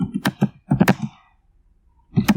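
Typing on a computer keyboard, close crisp clusters of key clicks in quick bursts, a short pause, then another burst of keystrokes.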